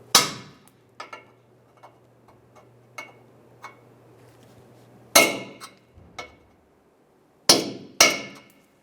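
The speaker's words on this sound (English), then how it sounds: "We're going to use a punch and a hammer and pop these through." Sharp metallic hammer strikes on a punch ring out irregularly, driving it through a Toyota Tacoma bumper impact bracket, a few loud clanks with lighter taps between them, close up with no talking.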